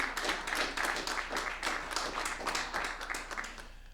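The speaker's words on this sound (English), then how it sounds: "So let's give the Summerlee Foundation a round of applause." Applause from an audience at a historical association gathering on a university campus, a brief burst of many hands clapping, fairly loud and full, fading slightly toward the end.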